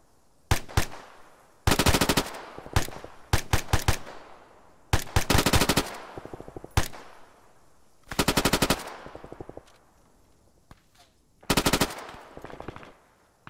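Bursts of automatic gunfire alternate with single shots in a video game firefight, loud and close, with short gaps between volleys and no talk over them.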